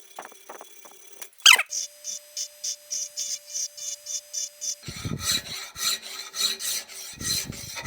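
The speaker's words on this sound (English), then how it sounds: "Let's see if I can even cut anything with the jeweler's saw." A jeweler's saw cuts a slot in a cracked knife blade with a steady run of short rasping strokes, close up, then heavier, faster scraping strokes toward the end.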